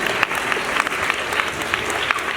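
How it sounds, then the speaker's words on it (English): Applause from a middle school audience at a school assembly presentation, a steady dense round of clapping filling the space at moderate loudness. "Ladies and gentlemen, round of applause."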